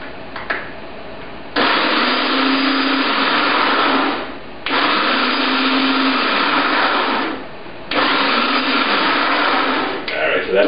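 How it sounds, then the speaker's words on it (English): A cheap food processor grinds baklava nut filling in three loud, sustained whirring bursts of a few seconds each, separated by short pauses. "Still haven't invested in a better food processor. So I'm going to pump this on just for a couple seconds."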